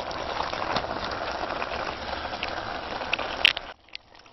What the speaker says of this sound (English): So I'm going to stir, stir, and stir.